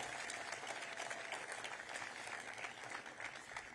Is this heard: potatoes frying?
no